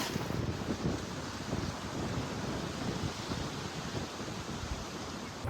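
Steady wind roars and buffets across an open golf course on the final 384-yard par-4 hole, a continuous broadband rush close to the microphone with no talk.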